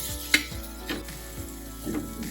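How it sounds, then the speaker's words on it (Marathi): Ground green chili chutney cooking in oil in a pan over medium gas while being stirred, with a few scraping strokes of a spoon over a low sizzle, close and fairly quiet. "वाटलेली चटणी टाकून घ्यायची थोडी कोरडी होईपर्यंत गॅस मिडियम ठेवायचा हे आपल्याला एकसारखं सतत ढवळत राहायचं"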